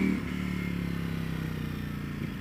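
A 2018 Ducati V4S motorcycle engine drones steadily while riding, a continuous low throbbing hum with faint clatter, fairly close and even in level throughout, with no talk.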